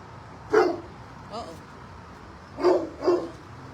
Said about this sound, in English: The hood pup is barking at me.